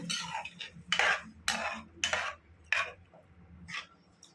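A spoon stirs fenugreek egg curry in a pan with water and chili powder added, giving five or six distinct scraping strokes in an irregular rhythm, close and moderately loud.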